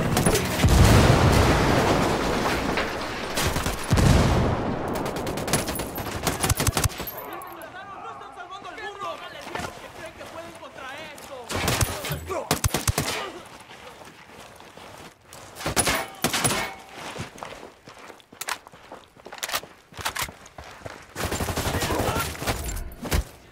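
Bursts of automatic and single-shot gunfire ring out in the video game Ghost Recon: Wildlands, heavy at first and then in scattered volleys mixed with shouted voices talking throughout.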